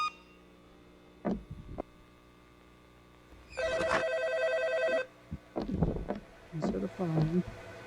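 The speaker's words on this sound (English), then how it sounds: "Answer the phone." Ringing of a telephone in a Roblox horror game: one sustained electronic ring lasting about a second and a half, set among bursts of talk and other game noises.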